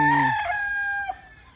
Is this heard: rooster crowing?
yes